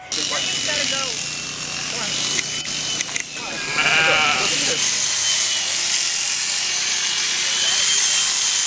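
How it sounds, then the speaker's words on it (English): Spring lambs on a sheep farm bleat in several quavering calls around the middle, standing out over steady outdoor wind or machine noise, with some voices heard early on. "it's enjoyable to see the new lambs that are out there"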